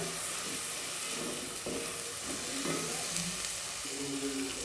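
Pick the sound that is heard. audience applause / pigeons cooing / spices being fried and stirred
spices being fried and stirred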